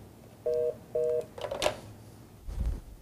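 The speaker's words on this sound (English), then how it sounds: "So now I dial, what was that extension, 205, 206?" Two short, clear DTMF keypad tones dial a phone extension on a telephone system, evenly spaced beeps followed by faint clicks and handling noise.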